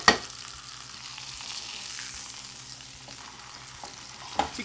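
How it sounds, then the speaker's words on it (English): Hot oil sizzles and crackles steadily as it is spooned over lamb searing in a pan, a continuous close frying hiss with a brief clatter at the start and a louder splash of oil near the end. "We're going to pick our lamb up a little bit and very carefully just throw this hot oil right over the top."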